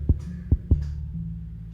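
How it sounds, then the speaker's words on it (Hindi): A heartbeat sound effect thumps in a quick, racing rhythm: three deep, close pulses in under a second over a low hum, then the beats fade and stop. "धड़कनें एकदम तेज हो गई"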